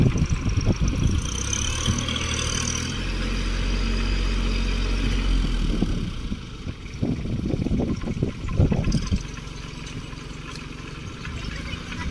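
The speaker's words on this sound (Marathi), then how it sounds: "रुद्र न्यूट्रल कर आणि रेस कर बरं." Massey Ferguson 6028 tractor fitted with a Shaktiman rotavator, its diesel engine running steadily and loud, with a deeper rumbling surge partway through and bursts of rougher revving near the end.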